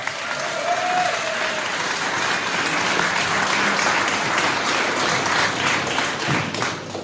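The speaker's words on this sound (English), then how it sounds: "Give her a big round of applause." Steady, loud applause from the audience at a public debate on the Scottish independence referendum in Irvine, a sustained wash of many hands clapping that holds for several seconds.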